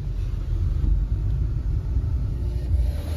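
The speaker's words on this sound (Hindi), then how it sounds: "वार्म अप हो रहा है गाड़ी का" A car engine idling while warming up before a mountain drive toward Badrinath in Uttarakhand, a steady low rumble held close and alone without any talk.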